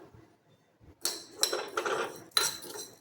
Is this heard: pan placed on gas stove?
yes